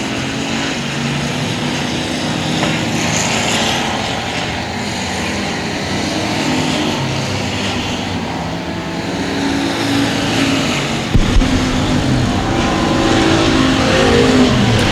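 Race cars roar around the track during the heats of the 2016 Bryan Mize Memorial, a loud, continuous engine drone swelling as the cars pass near, with no talk over it.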